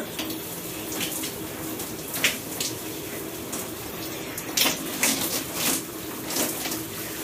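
Shower water runs steadily and splashes while hair is rinsed under it, a close, continuous wash of water with uneven bursts as the stream hits hair and skin. No one speaks.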